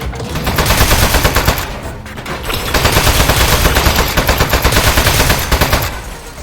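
Dense, rapid automatic gunfire in the video game Aperture Desk Job rattles loudly and continuously, with a brief lull near the middle before the shooting resumes at full intensity.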